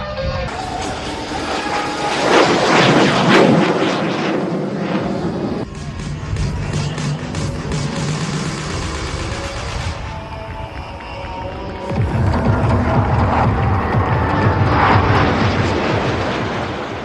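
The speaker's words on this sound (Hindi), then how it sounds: "से आता हुआ एक विमान, मगर क्या ये एक विमान है या दो?" Aircraft roar past overhead in a tricolour flypast formation at the Somnath Amrit Mahotsav, a loud sustained engine rumble that swells and shifts in waves as the planes pass.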